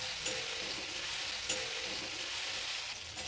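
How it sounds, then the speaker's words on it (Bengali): Jackfruit pieces, steamed with salt and turmeric, frying in oil in a pan, a steady close hiss of sizzling with faint stirring scrapes throughout. "এঁচোড় ভাজা হয়ে গেছে, আমি এঁচোড়ও তুলে নিচ্ছি।"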